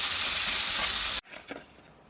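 Ivy gourd frying in a hot pan gives a loud, steady, close sizzle for about a second before it cuts off abruptly, leaving a faint scrape or two.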